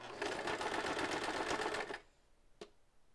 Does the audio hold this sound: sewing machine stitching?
yes